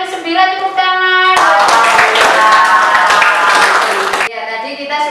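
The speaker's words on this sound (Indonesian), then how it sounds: "tepuk tangan" Children clapping their hands in a classroom, a burst of loud, rapid clapping in the middle set between stretches of sung or chanted voices with strong tonal harmonics.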